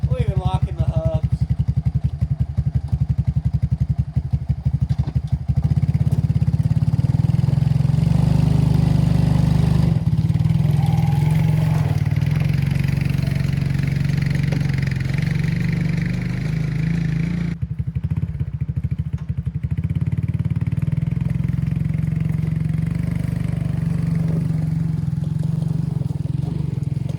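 A four-wheeler ATV with hubs locked in skidding trees on a mountain homestead, its engine droning steadily and loudly close by, revving and labouring under load with a clattering undertone throughout.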